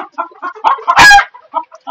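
Chickens on a rooftop garden clucking in short, close, repeated bursts, with one louder squawk in the middle.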